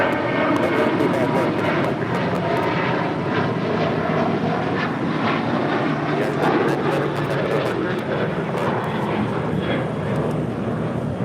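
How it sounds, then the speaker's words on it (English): A United Airlines Boeing 737-800 departs LAX with a loud, continuous jet roar, with pulsing textures riding on the steady engine noise throughout. "This is United Airlines 2602 taking off to Phoenix on a 737-800."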